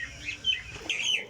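Pigeons of the Jaunsira Sialkoti flying breed make brief chirping calls and wing flutters, close and fairly quiet, in short bursts.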